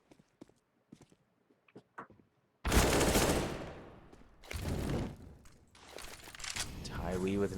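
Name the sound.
gunfire from the video game Counter-Strike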